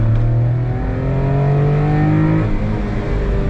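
Honda Beat engine pulling in third gear while driving, a loud, steady mid-pitched drone rising smoothly in pitch as it revs, heard close from inside the car with no talk.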